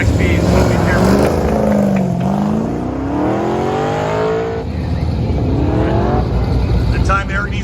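A race car with a 440 cubic inch LS7 engine runs at an autocross event, its loud engine rising and falling in pitch throughout under crowd and announcer noise.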